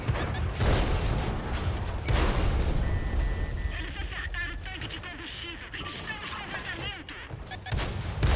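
Tank cannon fire and mechanical clanks from a tank battle video game, with loud booming shots at the start and again near the two-second mark and the end, under continuous dense battle noise.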